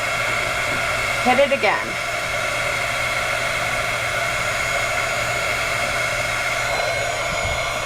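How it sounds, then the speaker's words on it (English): A handheld heat tool blows hot air over a glitter washer necklace, making a steady, close, loud whooshing drone that lasts throughout. A short spoken phrase comes near the start. "we're going to grab our heat tool"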